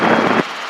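Robinson R22 helicopter in flight on approach to land at a helipad, a loud broadband rotor and engine roar that drops off sharply partway through, leaving a quieter steady hum.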